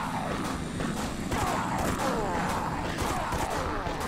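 A machine gun rattles in rapid, continuous bursts during a fight in the video game Dead Sky, dense mechanical clatter with booming impacts, fairly loud throughout.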